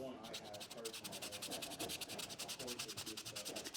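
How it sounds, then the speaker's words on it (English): Sandpaper rubs pine window trim by hand in quick, even back-and-forth strokes, a close, faint scratchy rhythm running steadily throughout with faint speech-like sound underneath. "this pine's pretty easy to work with and sand, and I'll work that a little bit."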